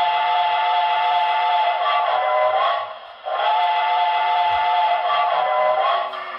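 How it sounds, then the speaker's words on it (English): Whistle of a model Reading T1 steam locomotive, a loud sustained multi-tone chime sounding alone in two long blasts with a brief gap between them. "Okay, so here is the whistle."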